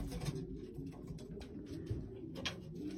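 Racing pigeons coo softly in a loft, low murmuring calls overlapping continuously with faint rustling, a calm crowded background without talk.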